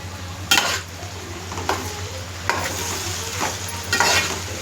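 A Kalagalapula curry cooking in oil is stirred in a pan, with a steady close sizzle and four or five sharp scrapes of the spoon against the pan spread across the stretch, no voices.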